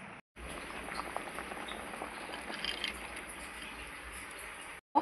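Peanuts, potatoes and sweet potatoes simmer together in a pot, giving a faint, steady bubbling hiss with scattered small pops, quiet and continuous with brief dropouts at the start and end.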